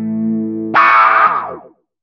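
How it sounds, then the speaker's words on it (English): Electric guitar played through an envelope filter triggered by the dry DI signal: a sustained chord gives way to a bright, filtered and distorted strum that sweeps and decays over about a second, close and alone. "the envelope filter is still being triggered by my DI guitar signal"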